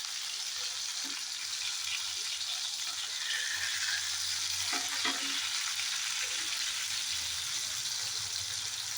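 Masala-coated fish fries on a dosa griddle with a soft, steady hiss and sizzle, close and fairly quiet, broken by a few faint clinks and taps.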